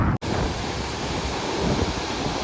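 Mountain stream rushing over rocks during a walk in the hills on a Kerala to Manali trip, a dense broadband roar heard close and loud, steady after a brief dropout at the start, with no voices.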